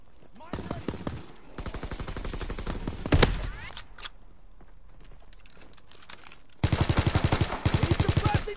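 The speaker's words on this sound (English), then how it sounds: "He's suppressing fire." Bursts of rapid suppressing machine-gun fire in Call of Duty, several sustained rattling strings with a louder burst near the middle and a final clipped series of sharp shots, loud and close with faint game sounds between.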